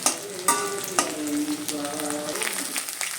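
Onions frying in oil in a pan, stirred now and then, make a continuous close sizzle with periodic scraping strokes of the spoon and no talking.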